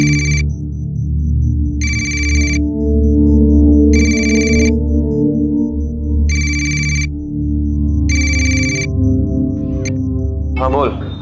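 A phone ringtone in a Hindi TV crime drama repeats in five evenly spaced bursts, loud and close, over background music, with a brief rustle near the end.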